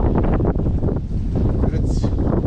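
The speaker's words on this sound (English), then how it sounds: "it's so windy out, it just hits the face." Strong, cold wind gusts steadily across the microphone in open snowy ground at about 20 degrees Fahrenheit, a loud continuous buffeting roar throughout.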